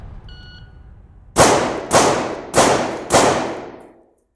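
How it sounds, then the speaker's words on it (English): Four loud, close gunshots fired in an evenly spaced string at two targets on a close-quarters training range, each crack trailing off in a short echo, with faint background noise before the first shot and no talking. "Next we're gonna shoot string of 4, 2 targets."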